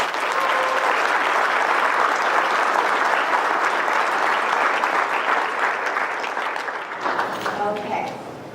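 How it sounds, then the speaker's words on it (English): A graduation audience at the 2017 PATHS ceremony applauds an award recipient, dense sustained clapping filling the hall and thinning out near the end, with voices mixed in. "if you would just give her a round of applause"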